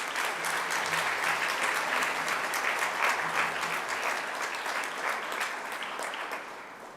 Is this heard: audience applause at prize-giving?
yes